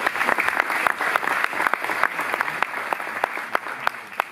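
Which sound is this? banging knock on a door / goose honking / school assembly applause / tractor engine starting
school assembly applause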